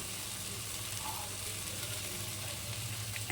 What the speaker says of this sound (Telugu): ఒక 2-3 మినిట్స్ అలా వేయించాలి ఈ ఆయిల్లో